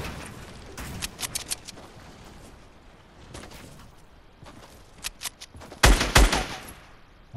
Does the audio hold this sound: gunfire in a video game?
yes